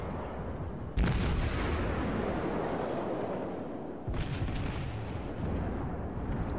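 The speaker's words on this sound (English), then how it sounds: "We have one more salvo off on it." A German cruiser's gun salvo in World of Warships booms twice, a heavy blast followed by a long rumbling decay, then a second report about three seconds later, loud and without voices.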